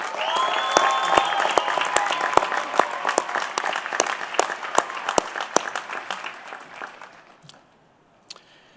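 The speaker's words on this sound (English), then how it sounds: "Please join me in giving her a round of applause." Graduation ceremony crowd at the University of Nevada, Reno, with sharp individual claps and a few whistles rising over a full round of applause that gradually thins and fades to a last scattered clap.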